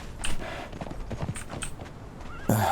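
Horse hooves clip-clop steadily on the ground in the game Conan Exiles, with a brief whinny near the end, all close and fairly loud.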